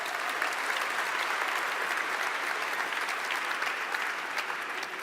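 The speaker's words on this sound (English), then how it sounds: "yes, you can clap your hands." An audience claps steadily, a dense, even wash of applause holding throughout without rising or falling much.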